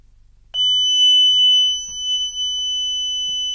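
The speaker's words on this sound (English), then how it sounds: "we get our medical alarm" A loud, steady electronic medical alarm tone from a Honeywell L5200 security panel sounds suddenly and holds continuously, piercing and close, with a few faint clicks beneath it.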